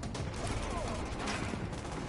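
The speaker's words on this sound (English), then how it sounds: "Being shot up as I get up this wall." Sustained gunfire in the shooter game The Division sounds as a dense, fairly quiet crackle of overlapping shots throughout, with faint background noise.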